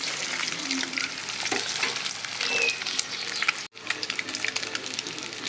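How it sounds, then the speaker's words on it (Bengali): Eggs frying in hot oil in a pan, a steady close sizzle with crackle and spatter that runs almost unbroken, dropping out only for a brief instant partway through. "আমার ডিম ভাজা অলরেডি হয়ে গেছে, দেখেন লাল লাল হয়ে গেছে।"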